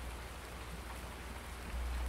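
Steady hiss of rain in the farming game Farming Simulator 19, an even, dense wash of drops with a low rumble that swells near the end, moderately quiet and with no speech.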